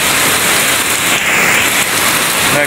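Continuous heavy rain wash, a broad steady hiss throughout, with no talking.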